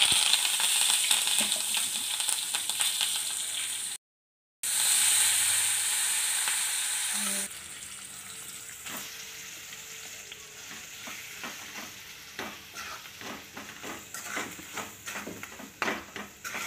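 Tempering for cabbage chutney sizzles loudly in a pan, a hissing crackle that fades into quieter frying with repeated clinks and scrapes of stirring.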